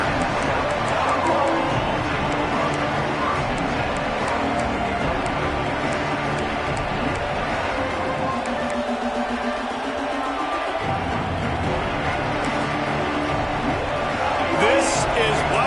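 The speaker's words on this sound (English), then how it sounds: "This crowd ready to make its presence known" A football stadium crowd roars in a broad, steady wash of cheering and hubbub, with a commentator talking over the noise.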